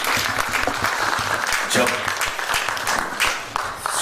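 An audience at a theater festival applauds after a historical play about Oedipus, with dense, sustained clapping throughout. A voice briefly speaks over it.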